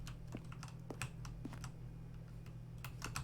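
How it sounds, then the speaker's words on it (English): Keyboard strokes from The Stanley Parable come as scattered taps, about a dozen uneven clicks over a low steady hum, fairly faint and close, with no talking. "Keyboard stroke and a synthesized tone."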